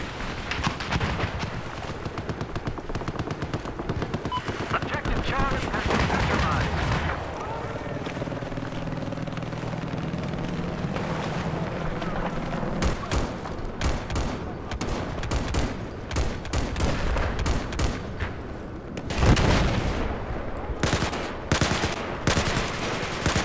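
Gunfire in the video game Battlefield 4 on an island base rattles in dense bursts with boat engine noise, loud and continuous for long stretches, with talk in between.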